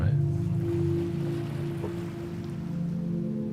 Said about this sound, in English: There's flowing water in the sanctuary.